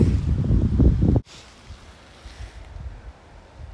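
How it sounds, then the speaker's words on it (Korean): Wind blows outdoors on a mountain, with a strong, close buffeting gust that cuts off abruptly and leaves a softer, steady rushing breeze. "오늘은 바람이 좀 붑니다"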